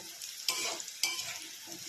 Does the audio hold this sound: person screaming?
no